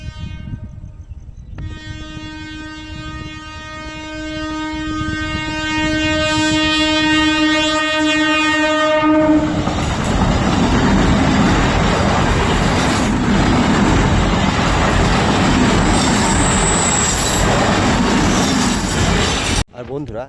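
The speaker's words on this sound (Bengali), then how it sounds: "এই এখনই লোকালটা আসবে, আপনাকে লোকালটা দেখুন" A Bandel–Katwa up local train on the Eastern Railway sounds a long, loud horn blast for several seconds, then roars past close by in a sustained rumble and rattle of wagons that ends abruptly.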